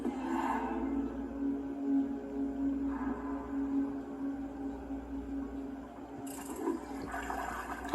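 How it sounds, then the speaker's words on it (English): A toilet flushing in the hotel of the video game Mystery Case Files: Dire Grove, a steady watery rush with a hollow low hum that swells and surges again near the end, heard alone. "we can flush the toilet"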